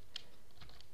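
Keys on a computer keyboard tapped a few times in quick succession, faint and close, with no talking.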